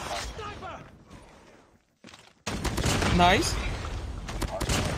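A JAK-12 shotgun fires in Call of Duty Mobile, with a loud burst of shots after a brief silence amid game noise and a voice speaking.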